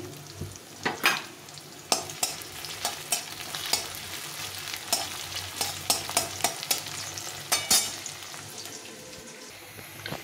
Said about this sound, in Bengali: এদিকে আমার বেরেস্তাটা ভেজে নিচ্ছি